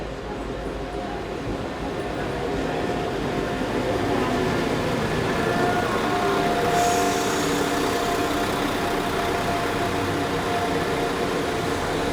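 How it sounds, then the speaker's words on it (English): A Class 172 diesel train arrives at a station, a continuous rumbling engine and rolling noise holding steady and fairly loud, with a brief brighter squeal partway through. "And now we have another Class 172 arriving."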